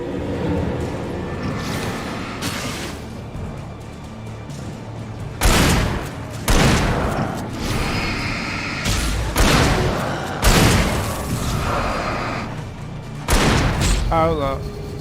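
Shotgun blasts in the horror video game Alan Wake, several loud booming shots spaced a few seconds apart over steady ambient game noise, with a brief voice near the end.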